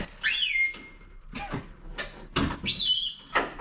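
Several high, creaky squeals from metal hinges as the tailgate of an old (1995–2004) Toyota Tacoma is worked back and forth, each squeak sharp and separated by short pauses.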